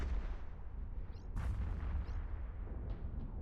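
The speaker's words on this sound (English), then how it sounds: "Love the explosions." Deep, continuous rumbling explosions from a space battle in the Eve Echoes game, a heavy low-frequency roar with a few sharper blasts layered on top, loud and sustained throughout.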